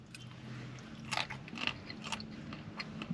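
Crispy Asian noodles topping a spicy perogy pizza crunch under several close bites, sharp crackly snaps coming in quick bursts over soft steady chewing.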